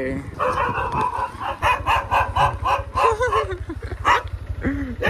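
A dog barks repeatedly at close range beside a bike on an off-road hillside outing near Karjat, its sharp barks rising over a steady engine hum while people talk nearby.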